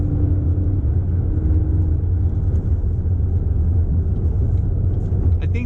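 A 2019 GMC Canyon All Terrain pickup truck accelerates uphill, heard from inside the cab as a steady, loud low engine drone and road rumble that holds evenly throughout with no speech.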